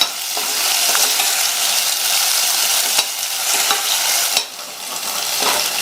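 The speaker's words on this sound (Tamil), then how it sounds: "இஞ்சி பூண்டு விழுதோட பச்சை வாசனை போனதுக்கப்புறமா ஒரு சின்ன தக்காளியை கட் பண்ணி சேர்த்துட்டு இதையும் வதக்கிக்கலாம்." Ginger garlic paste and chopped tomato sautéing in a pan, giving a steady, close sizzle with scraping stir strokes throughout and brief pauses in the frying hiss.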